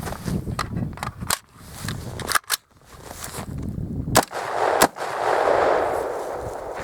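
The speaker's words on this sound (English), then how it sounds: "And the other 2 rounds fired." Rifle rounds fired during sub-zero cold-weather testing of gun lubricants, several sharp gunshots ringing out at uneven intervals, with a pair of close, loud reports standing out among the quieter clicks and handling noise.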